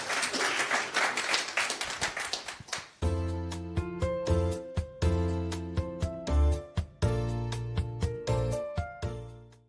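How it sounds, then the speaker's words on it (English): An audience briefly applauds a team at a World Economic Forum event, a short burst of clapping that gives way to loud rhythmic music with sharp beats. "please, a round of applause for this team"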